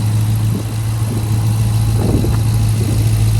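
A 2020 Dodge Charger 392 Scat Pack Widebody with 37,000 miles idles up close, a steady loud low rumble with a strong droning hum and slight uneven pulses throughout, no talking over it.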